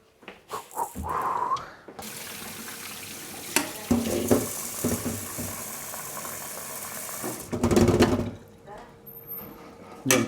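Water runs from a kitchen tap, filling a pot or sink in bursts of splashing flow, loudest near the start and again toward the end, with people talking over it.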